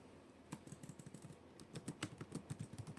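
Fingers type on a computer keyboard in quick, uneven runs of soft clicks, close and fairly quiet, with a short pause before the keystrokes pick up again.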